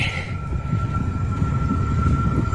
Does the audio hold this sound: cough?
no